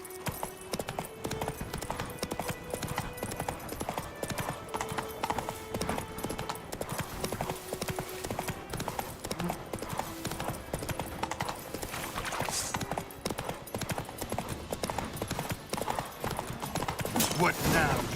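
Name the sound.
horse Roach galloping, from the video game Witcher 3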